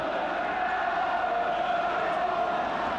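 Large football crowd at a nearly full ground during the 1981 Wolves v Wrexham FA Cup fifth round tie, a steady loud roar of many voices shouting and chanting throughout, dense and continuous.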